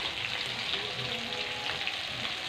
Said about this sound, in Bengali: মাছও এক পিঠ ভাজা হয়ে গেছে,